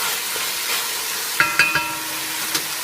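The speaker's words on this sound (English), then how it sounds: "Go ahead and give it one last final stir" A lentil and mushroom mixture given a final stir in a pan, steady soft sizzle with a few clinks and scrapes of the utensil against the pan near the middle.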